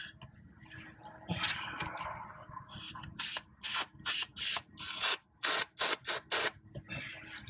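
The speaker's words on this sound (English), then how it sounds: "let's go ahead and spray our PB blaster" A series of short, loud hissing sprays of PB Blaster penetrating oil from an aerosol can in quick bursts, close by, during Honda Civic end link replacement, after a stretch of quiet rustling and handling noise.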